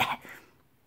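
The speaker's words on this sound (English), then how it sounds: "she couldn't help coughing and spluttering as she tried to breathe." A girl coughs and splutters after being caught in a cloud of soot, with a short harsh burst of coughing at the start that trails off quickly into quiet.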